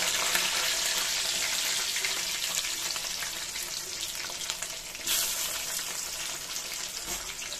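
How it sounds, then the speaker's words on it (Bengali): Pieces of elephant foot yam fry in hot oil for a prawn dish, giving a steady, fairly close sizzle with occasional stirring and a brief louder burst near the end. "ওলগুলোকে আমি আগে একটু লাল লাল করে ভাজা করে নেব।"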